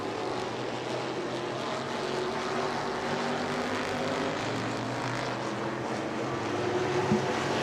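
A race car passes on an oval track during a Hoosier Series event at New Smyrna, a steady loud engine drone that swells slightly as it goes by.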